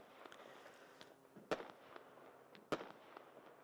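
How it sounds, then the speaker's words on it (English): Daytime fireworks go off in the distance near a kart racing circuit at Le Mans, two faint sharp pops standing above a low, steady outdoor background, with smaller crackles between them. "I think I hear some fireworks in the nearby vicinity."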